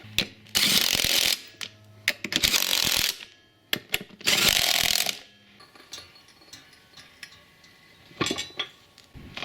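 Metal clinks, ratchet clicks and hissing bursts while a wheel is refitted on a Kazuma Panda ATV, close and sporadic, with two longer rasping spells early on and scattered clatters afterward.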